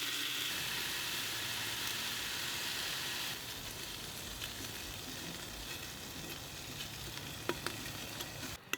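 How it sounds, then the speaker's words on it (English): Four slices of bacon fry in a CanCooker with a soft, constant hiss and sizzle that drops slightly in level partway through, followed by a few faint clicks near the end. "we're going to fry this bacon up until it's nice and crispy"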